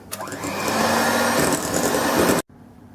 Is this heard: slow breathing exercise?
no